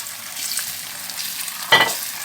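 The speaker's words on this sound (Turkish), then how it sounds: "Şimdi tereyağını ilave ediyorum ve şöyle karıştırıyorum." Butter goes into bubbling caramel and gets stirred, so a soft continuous sizzle runs throughout, broken near the end by one loud, sharp scrape of the spoon against the pan.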